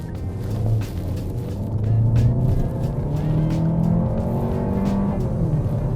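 A Kia K5 sedan with a 1.6-liter engine accelerating on the road, a steady low engine drone rising gradually in pitch over tire and road noise, heard from inside the cabin.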